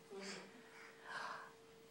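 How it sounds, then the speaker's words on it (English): A baby gives a soft, breathy, drawn-out yawn up close, rising in two swells and fading, quiet against a faint steady hum. "Oh, big yawn."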